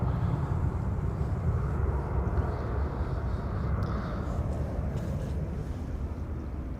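Heavy airliners departing from Amsterdam Schiphol Airport give off a broad, steady jet roar that sounds fairly distant and constant, with wind buffeting the microphone and no talking.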